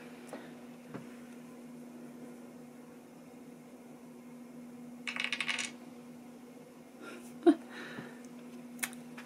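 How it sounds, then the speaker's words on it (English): Dice are rolled during a tabletop reading-prompt game, producing two short clattering rattles against a hard surface over a quiet room hum, followed by a single sharp click. "let's go ahead and roll the dice to figure out what prompt number 1 will be"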